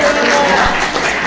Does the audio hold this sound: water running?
no